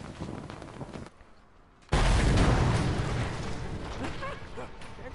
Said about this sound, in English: The explosions are good, but I would expect nothing less from an avalanche